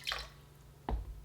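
Brine dripping from a jar of cucumbers pickling in salt brine gives two soft, separate wet drips, the second a little louder, with quiet pauses around them.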